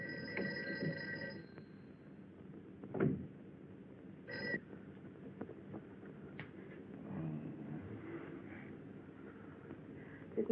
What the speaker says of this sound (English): Mary, see if you can get Jan on the phone.